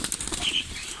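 A brief burst of parrot wings flapping close by, a quick fluttering rush lasting under a second, with no voices.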